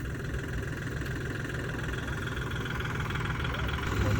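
A car stuck in mud, its engine droning and revving steadily at close range with a low throbbing rumble that rises slightly at the end, while people talk over it.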